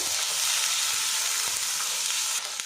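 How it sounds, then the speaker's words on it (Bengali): Sliced onion with ginger-garlic paste fries in a pan for an egg curry, a steady, close hiss of sizzling oil with faint stirring underneath. "পেঁয়াজের সাথে আদা রসুনটা কিন্তু একটু ভাজা ভাজা করে নেবো"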